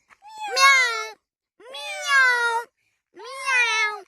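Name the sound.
voice imitating a cat meow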